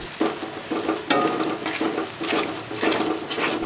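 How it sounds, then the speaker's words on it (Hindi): Potato and egg curry being stirred in a frying pan, the spoon scraping in a loose repeated rhythm over a soft sizzle, close up and with no talking. "अच्छे तरीके से मिक्स करेंगे।"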